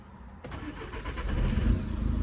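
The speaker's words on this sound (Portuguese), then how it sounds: "O carro trabalha." An Audi A3 8P with a suspected battery and alternator fault cranks briefly, then its engine catches and settles into a steady, close idle.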